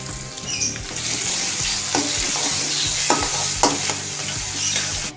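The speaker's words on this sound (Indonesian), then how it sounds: "Panaskan minyak lalu tumis" Spice paste sautéing in hot oil for homemade chicken noodles, a loud steady sizzle with scraping stirs and sharp crackles recurring throughout.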